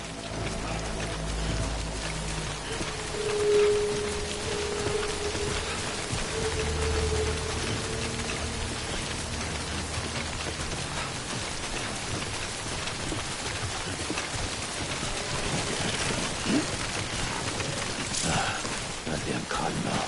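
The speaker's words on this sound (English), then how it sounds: "Good thing it was raining." Steady rain falls across an outdoor scene in the video game Death Stranding, a dense even hiss of drops on the ground that continues without a break, with a low rumble underneath.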